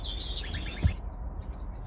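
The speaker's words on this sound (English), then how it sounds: "we've got canaries in with green finches, mules, and mainly the smaller birds" Small finches and canaries in a mixed aviary with greenfinches and mules give a brief burst of high chirps and trills near the start, then fall quiet over a low background rumble.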